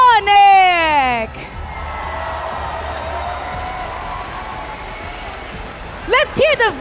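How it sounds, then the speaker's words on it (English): An arena crowd at the M5 World Championship knockout stage in Rizal Memorial Coliseum applauds and cheers the winning team Onyx: a steady, dense wash of clapping and crowd noise lasting several seconds, framed by an announcer's amplified voice before and after. "let's give a big round of applause for Onyx."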